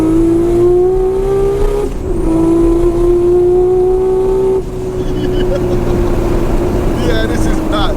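Nissan R34 GT-R driven hard, engine note climbing steadily through the gears from inside the car, a loud droning tone with a brief dip at each shift, then rougher road and engine noise.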